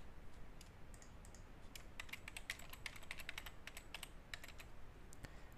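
Quick, close clicks of a computer keyboard as login details are entered, an irregular run of light keystrokes over a quiet hiss with no voices.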